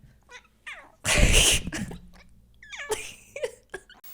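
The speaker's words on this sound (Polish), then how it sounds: "Masz kota ci daję." A cat meows and caterwauls close by, one loud drawn-out cry followed by several shorter mewing calls, with a few small rustles between.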